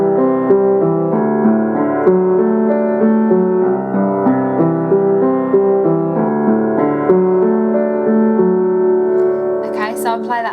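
Piano or keyboard playing the verse and bridge chords of a song, sustained chord changes in a steady rhythm with a clear melodic top line and no talking.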